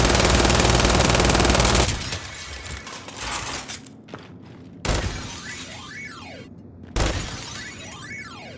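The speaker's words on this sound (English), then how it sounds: "So it sounds like an arcade machine every time you shoot the sign." Heavy gunfire rattles loudly at a sign in Just Cause 4, then stops, and each later shot sets off rising and falling electronic arcade-machine bleeps, heard three times between sharp impacts.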